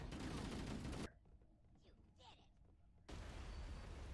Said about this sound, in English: An explosion, Adam.